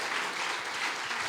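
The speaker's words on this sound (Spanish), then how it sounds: "Denle un fuerte aplauso al Señor." A church congregation claps loudly and continuously during a sermon, a dense even burst of applause with no speech heard.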